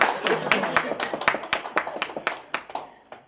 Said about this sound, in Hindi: तालियां तो ऐसे बजा रहा है